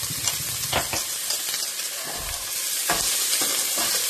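Onions with rock salt sauté in hot oil, a continuous close sizzle with scraping stirs of a spatula cutting through at intervals, and no talking.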